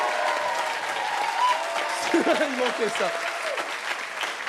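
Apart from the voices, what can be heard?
audience applause for an actor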